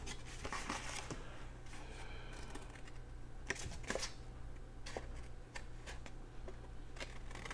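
Scissors snip through paper while a decorative envelope template is cut out, giving a faint, close series of crisp cutting clicks and rustles over a low steady hum.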